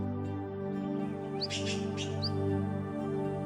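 A few short, high bird chirps sound sparsely over a steady humming musical background, faint and spaced apart.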